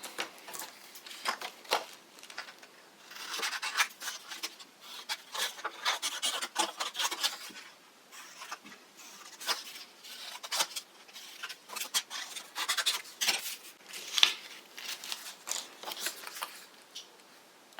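Scissors cutting out cardboard pieces for a craft camera, with close, uneven bursts of rasping, snipping and paper rustle that start and stop across the span, fairly quiet and with no talk.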